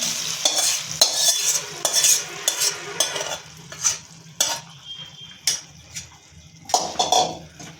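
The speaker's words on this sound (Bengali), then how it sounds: "এবার ডালে সেই শোকটা দিয়ে দিচ্ছি" Garlic and chilli tempering is tipped into cooked lentils for spinach dal and sizzles sharply in loud bursts, with repeated spoon stirring and scraping against the pot.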